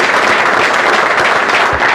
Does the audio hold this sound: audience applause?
yes